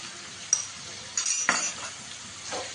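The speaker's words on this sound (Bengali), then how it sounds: "এবার আমি মটন কিমাটা দিয়ে দেবো" Minced mutton with its fat fries in a little oil, giving a steady sizzle broken by a few sharp spatula scrapes and clinks against the pan; no talking.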